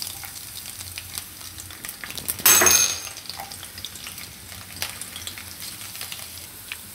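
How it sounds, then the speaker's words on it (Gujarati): Garlic dropped into hot oil gives a brief loud hissing burst that fades into a quieter, continuous crackling fry with scattered pops. "તેલ આપણું ગરમ થઈ ગયું છે, તો એમાં આપણે પહેલાં લસણ નાખશું."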